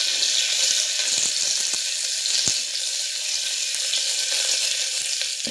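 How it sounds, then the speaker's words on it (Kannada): Mustard seeds and cumin splutter in hot oil with curry leaves about to go in, a steady bright sizzling hiss with scattered sharp pops and crackles, close and alone. "ಈಗ ಸಾಸಿವೆ ಜೀರಿಗೆ ಸಿಡಿಯಾಕ್ತಾರೆ"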